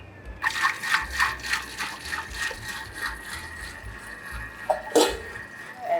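Thermomix whirring at speed 3.5 as it mixes tiramisu batter of sugar and other ingredients, a steady motor hum with rhythmic rattling pulses and a brief clatter near the end, no talk.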